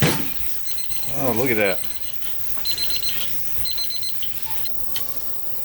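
A meat thermometer alarm beeps in quick repeated high electronic bursts as a steak cooked under a 1500-degree broiler reaches its target temperature, with someone speaking briefly over the start.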